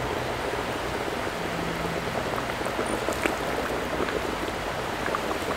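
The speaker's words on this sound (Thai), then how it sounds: "น้ำเดือดเลยจ้ะ" Steady bubbling and rumbling of water at a rolling boil, with a constant hiss and scattered pops close by, no voices.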